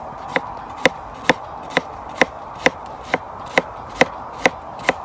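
A knife slicing on a cutting board, eleven crisp even chops at a steady rhythm, close and clear with nothing else heard.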